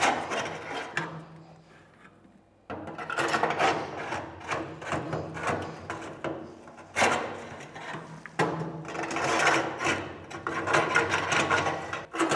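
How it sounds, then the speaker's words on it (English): A wet-pellet-clogged auger on a Camp Chef pellet grill is pushed in and pulled out of its tube in repeated scraping, grinding strokes, loud and close with a short quiet gap between bursts. "we can keep pushing in our auger and pulling it out, getting all of our pellets out of the auger."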